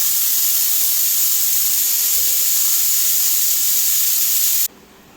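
A pressure cooker holding kabuli chickpeas lets out a loud, steady hiss of escaping steam that cuts off abruptly near the end.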